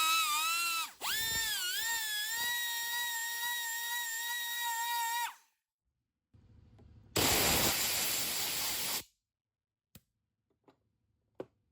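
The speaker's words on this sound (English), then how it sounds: "I've got some sandpaper here on the end of a die grinder. See if polishing the inside of the bore will make a difference." A die grinder fitted with sandpaper polishes inside a bore while reassembling a Brown & Sharpe universal dividing head. A loud, high, steady whine dips briefly as it bogs, cuts out, then returns as a harsh rushing burst, followed by a few faint clicks.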